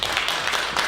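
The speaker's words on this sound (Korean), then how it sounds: "큰 박수로 맞이해 주시기 바라겠습니다" Audience applause welcoming a speaker at a lecture on urban change, a brief wash of many hands clapping at moderate loudness.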